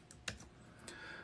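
Typing on a computer keyboard, a few quiet, quick key clicks close by, faint and alone.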